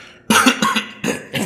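Four loud, harsh coughs break out one after another, close and dry, each a short rough burst with brief pauses between, interrupting an ad read on a podcast.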